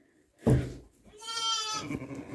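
A newborn lamb bleats after birth: a short thump, then a single wavering, tremulous bleat close by, with quiet stillness before it.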